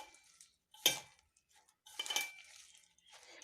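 Spiced lentil pakora batter with turmeric and salt stirred in a bowl, giving a few close scraping, clinking strokes with short pauses between.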